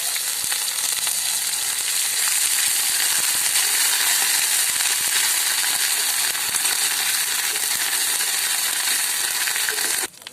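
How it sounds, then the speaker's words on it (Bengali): Bay leaf, dried red chili and panch phoron fry in hot oil with a loud, dense, continuous sizzle. Faint crackles and pops come through close up, and the sound cuts out just before the end. "ফোড়নের তেজপাতা, শুকনো লঙ্কা আর পাঁচফোড়ন দিয়ে দেব।"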